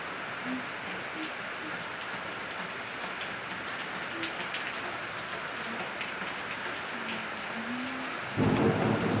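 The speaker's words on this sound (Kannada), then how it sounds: "ಮಳೆ ಫುಲ್ ಗುಡುಗು ಮಿಂಚು ಆ ಥರ ಮಳೆ ಬರತೈತಿ" Heavy rain pours steadily with low rumbles of thunder beneath it, loud and close, and a brief louder burst near the end.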